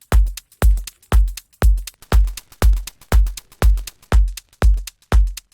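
A looping shaker rhythm repeats at a steady, even pulse, each hit thick and gritty with crackly vinyl distortion.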